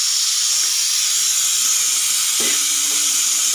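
Onion sizzles and fries in a hot pan, a steady loud hissing that continues throughout, with a soft clunk partway through and no talking.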